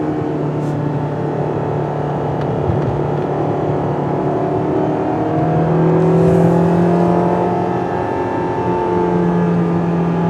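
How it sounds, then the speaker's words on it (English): A Fiat 500 engine revs steadily to about 6,000 RPM in second gear, its pitch climbing and holding high, loud and close with a droning tone. "Nice engine tune. Sounds Italian,"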